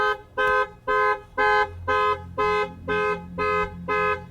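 A car alarm fitted with a KEETEC GPS locator blares a steady pulsing tone, about eight evenly spaced loud beeps with short gaps, close by and alone.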